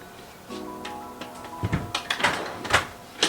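Dresser drawers are opened, giving a faint hum, then a run of sliding scrapes, knocks and clacks close by.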